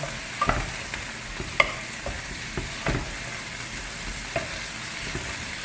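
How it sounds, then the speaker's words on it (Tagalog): String beans frying in a pan for adobo sitaw give a steady close sizzle, broken by several soft scraping stirs of a utensil. "Lagay ko na yung sitaw."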